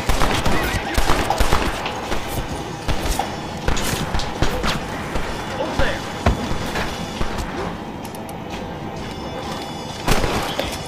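Horse neighs and hoofbeats amid scattered gunfire in the western video game Red Dead Redemption, with sharp shots recurring over a busy outdoor action scene.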